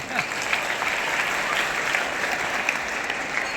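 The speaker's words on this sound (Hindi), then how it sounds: "अच्छा, और जो बच्चे थक गए उनके लिए डबल ताली हो जाए।" Steady, dense applause from a large audience clapping for children at a Hindi-language gathering, continuous and fairly loud throughout with no talk over it.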